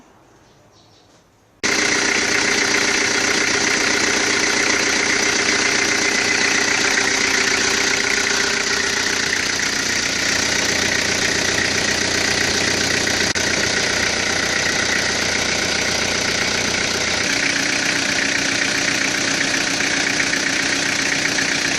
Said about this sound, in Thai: ดี๋ยวเราไปฟังเสียงเครื่องกันเลยครับ